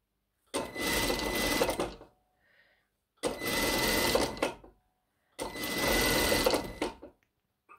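Sewing machine stitching a pintuck into blouse fabric, running in three loud, steady bursts of about one and a half seconds each, separated by short pauses.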